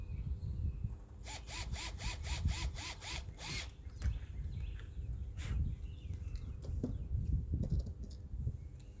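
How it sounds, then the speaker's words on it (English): Power drill boring a hole into a kayak for a YakAttack LeverLock anchor trolley, a run of about eight rapid, evenly spaced bursts followed by quieter scraping and handling noises, close and fairly loud. "Go ahead and drill my first hole in the middle"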